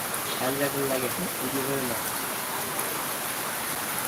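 Steady rain falls outdoors as a broad, constant hiss, with someone talking over it for the first couple of seconds.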